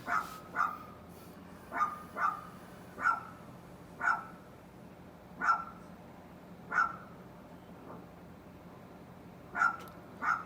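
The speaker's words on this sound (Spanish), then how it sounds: "que se le acabe la energía al perro que está gritando por acá cerca" A dog barks repeatedly nearby, about nine sharp, evenly spaced barks over steady low background noise, with no talk.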